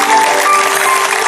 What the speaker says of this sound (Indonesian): Lihat itu anak-anak itu yang tepuk tangan